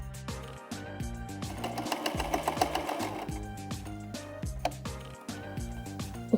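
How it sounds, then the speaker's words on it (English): A sewing machine runs steadily as fabric edges are stitched together, its rapid needle chatter forming a continuous mechanical rhythm with brief pauses and speed changes, close and fairly loud. "I'm going to continue sewing till we reach the end."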